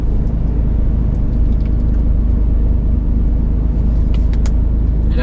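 Heavy road traffic roars past beside a busy roadside, a loud, unbroken rumble of car and bus engines and tyre noise that stays steady throughout with no voices.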